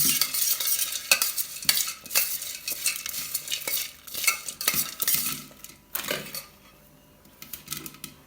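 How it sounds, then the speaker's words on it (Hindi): A spoon stirs Maggi noodles with squeezed lemon juice, brisk repeated scraping and clinking against the pot over a light sizzle, loud and close, before the stirring fades out at the end. "चम्मच से अच्छे से मिक्स कर लेंगे"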